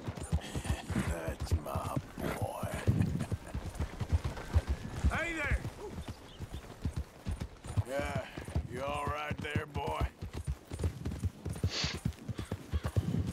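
A horse's hooves clip-clop in a steady rhythm across the soundscape of Red Dead Redemption 2, mixed with game sounds and character voices speaking over them throughout.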